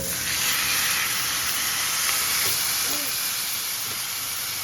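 Rib eye steak with butter in a pan on medium heat, a steady loud hiss and sizzle that holds evenly throughout with faint clinks behind it.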